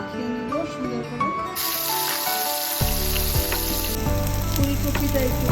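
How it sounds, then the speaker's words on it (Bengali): Cauliflower and eggplant sizzling and frying in a pan of hot oil, a loud continuous crackle with bursts as pieces are added and stirred, close up, without talk. "ফুলকপিটা একটু ভেজে নিচ্ছি, ফুলকপিটা হালকা করে বেগুনটা ভেজে নিচ্ছি।"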